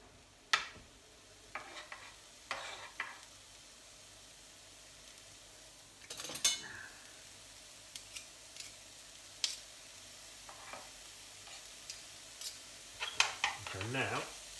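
Celery, garlic and other vegetables frying for bolognese, a faint low sizzle under intermittent clatters and scrapes of a utensil stirring against the pan.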